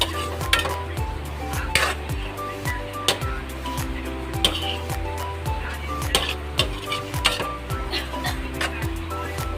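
Ginisang kangkong with black beans is stirred in a pan, a utensil scraping and clinking against the metal in a steady rhythm over a continuous sizzle.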